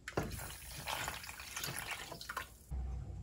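A cup of water poured into a small pan for a sugar and cornstarch mixture, a steady close splashing pour for about two and a half seconds that cuts off into quiet room tone.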